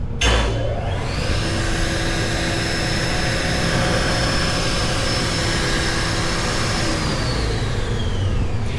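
An SCM TF 130E spindle shaper with motorized elevation starts its spindle and spins up, then holds a loud, steady whine and whoosh that stays constant throughout, heard up close with nobody speaking.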